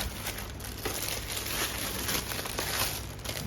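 Packaging of an Acmic F20 Pro 20,000 mAh power bank being unboxed: close, loud, continuous crinkling and rustling of plastic and paper with a few brief tearing bursts, and no voices.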